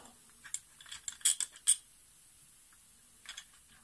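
Small screws come out of the fuel pump on a Yamaha XV500 carburettor with faint, close metallic clicks and ticks from a screwdriver. The clicks come in a short cluster and then a few more after a quiet gap.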